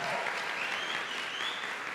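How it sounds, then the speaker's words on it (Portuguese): Church congregation applauding during a worship service, a dense even wash of many hands clapping at moderate distance, sustained throughout without a break. "Uma salva de palmas também."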